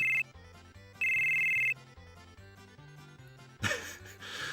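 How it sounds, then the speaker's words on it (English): A phone in the video game Final Fantasy VII rings in two bright electronic bursts over looping game music, followed by a soft breathy sound, with no talking. "I still love the animation of Cloud answering the phone"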